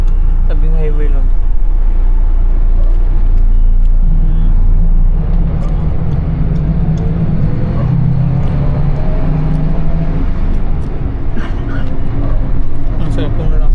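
Steady roadside highway traffic roars close and loud beside a bus station, a continuous rumble of passing vehicles with faint talk mixed in.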